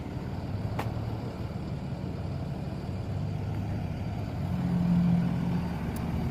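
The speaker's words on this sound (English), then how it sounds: "always kind of sad to see an old truck go away" Old fire truck engine rumbling as it pulls away, a steady low motor drone with a brief rise in loudness midway, heard outdoors at moderate distance with no talking.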